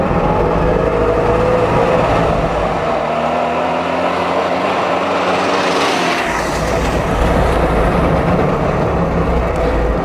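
Trabant car engine running loudly and pulling away in first gear: a constant, rough, buzzing drone with a pitch that rises and shifts as the car takes off, filling the whole stretch without speech.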